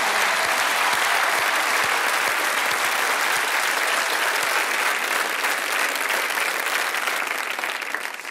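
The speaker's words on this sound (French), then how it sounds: "Applaudissements." A TV studio audience applauds loudly and steadily, a dense wash of clapping that holds at full strength for the whole stretch and only eases slightly at the very end.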